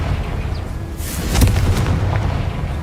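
A Confringo blasting spell explodes in Hogwarts Legacy with a deep, rumbling boom and a crackling burst, standing out over steady low background noise.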